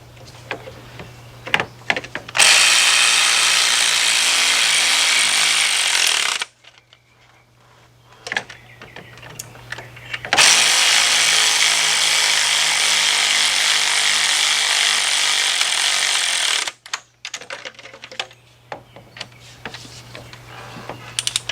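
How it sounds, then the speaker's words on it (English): A power tool drives a 13mm deep socket to tighten bolts on a GM engine head job in a Buick Rainier or Chevy Tahoe class SUV, with two long, loud, steady whirring bursts separated by quieter clanks and pauses. "Alright, now we're going to go start tightening them up. 13mm deep socket"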